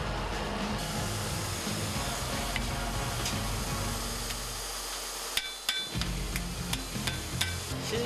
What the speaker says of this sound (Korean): 쇠에 열기가 식기 전에 모양을 잡아야 하기 때문에 망치는 잠시도 쉴 틈이 없습니다.